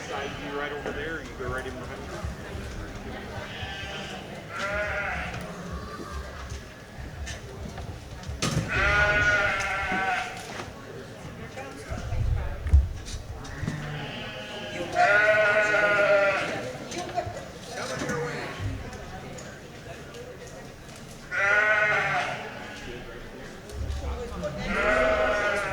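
Sheep bleat at a county junior fair sheep show, several drawn-out calls spread across the scene at moderate distance, mixed with crowd murmur and announcer-style talk in a large show barn.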